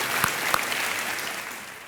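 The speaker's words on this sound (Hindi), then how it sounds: "तालियों के साथ इनका स्वागत किया जाए।" A studio audience on a Hindi quiz show set applauds the arriving contestants, a steady wash of clapping from start to finish with a couple of sharper claps standing out near the beginning.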